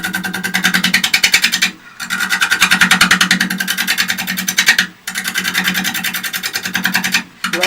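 A wood lathe cut throws shavings toward the front of the lathe, making a loud, rapidly pulsing rasp that runs in long bursts, broken by two brief pauses, with no talk.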